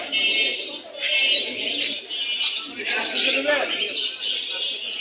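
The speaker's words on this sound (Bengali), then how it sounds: "সব ধরনের কবুতরই পাওয়া যায়" Pigeons coo and chirp in a busy pigeon market in Dhaka, a dense layer of bird calls running continuously beneath people talking nearby.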